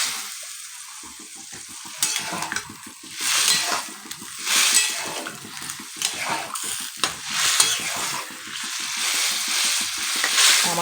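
Aloo dum, a Bengali potato curry thinned with the water from rinsing the spice bowl, bubbling and sizzling in a pan, with close, steady crackling and rhythmic stirring scrapes throughout and no talk.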